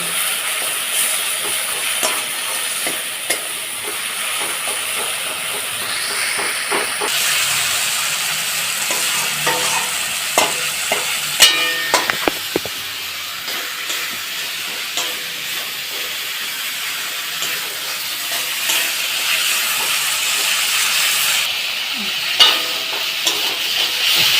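Spice paste fries in oil for Bhola fish curry, a continuous close sizzle with frequent clinks and scrapes from stirring, no voices.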